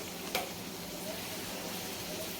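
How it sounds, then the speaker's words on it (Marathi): Puris made with kasuri methi fry in hot oil, a soft, steady sizzle with one small pop near the start, faint and even throughout. "तेल बघा तापलं आहे तर मी पुरा सर्व पुरा तळून घेते"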